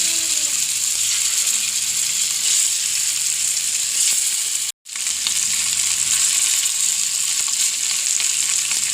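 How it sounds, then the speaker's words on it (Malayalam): Kili meen fish fries in hot oil in a pan, giving a loud, steady crackling sizzle that barely changes, broken only by a brief silent gap midway. "അപ്പോൾ നമുക്കിനി മീൻ വറക്കാം."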